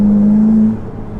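A 710 HP Ferrari in race mode gives a loud, close exhaust note that holds a steady tone for under a second and then drops away quickly.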